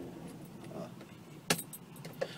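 Keys jingle faintly inside a car as it is switched off, with a sharp metallic clink at mid-clip and a softer rattle shortly after, over a low quiet background.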